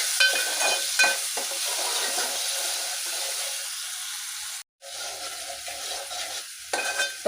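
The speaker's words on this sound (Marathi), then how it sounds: "आता त्याच्यामध्ये घालणार आहोत आपण हा बारीक चिरलेला एक मोठा टोमॅटो, तोही छान बारीक गॅसवर मी परतून घेणार आहे" Finely chopped tomato sautéing in a pan on a gas stove, a bright steady sizzle with a few stirring knocks, a short gap of silence and then the sizzle resumes.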